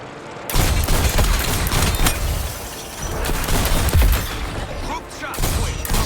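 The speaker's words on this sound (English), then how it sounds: "Launch grenade!" A grenade launch and explosions erupt in the video game Suicide Squad Kill the Justice League as loud booming blasts and dense gunfire. The barrage is sustained over several seconds and layered with chaotic combat noise.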